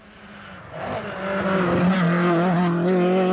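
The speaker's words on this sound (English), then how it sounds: "Number 14, which was Den Daly from Belfast driving a Datsun" A Datsun rally car at a Millstreet rally, its engine note climbing and growing louder as it approaches and drives past, a sustained high revving roar with no voices.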